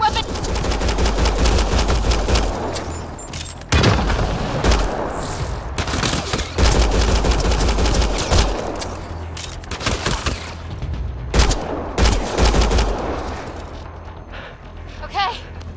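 Firefight in the video game Mass Effect: Andromeda, with rapid automatic weapon bursts, sharp single shots and heavy booms, loud and continuous, with occasional brief voices amid the shooting.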